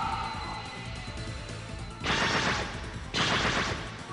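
Two loud bursts of video game gunfire from Revelations: Persona, each about a second long, with a brief gap between them over steady background game music.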